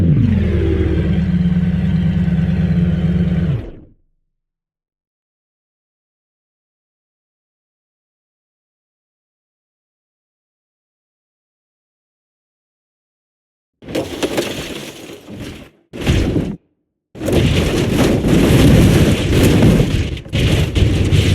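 An Audi R8 crushed by a giant hydraulic press in BeamNG.Drive: a loud burst opens, about ten seconds of silence follow, then violent crunching and breaking noise returns in harsh bursts with brief gaps.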